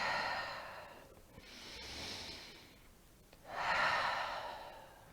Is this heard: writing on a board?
no